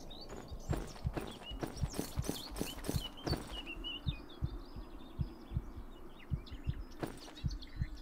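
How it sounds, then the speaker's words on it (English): Minecraft heartbeat sound effect thumping in a steady, repeated pulse of dull low beats, with faint ambient chirps and a few sharper clicks over a quiet background. "Why do I hear heartbeats?"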